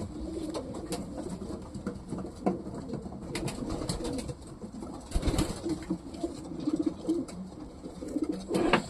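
Racing pigeons coo in low, throaty murmurs amid rustling and soft wing flutters, several birds close by in a continuous burbling chorus.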